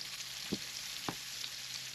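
A steady, even sizzle of a braided piece of fish frying in a pan, broken by two soft taps, with no one talking.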